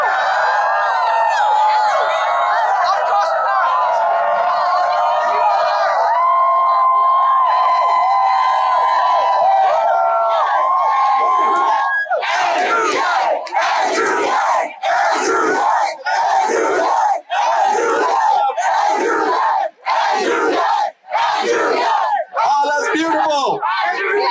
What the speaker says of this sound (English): I can't even go to sleep without a crowd of thousands chanting my name anymore.